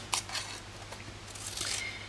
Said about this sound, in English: if you've got a good pair of long scissors like this, you can do it pretty much the same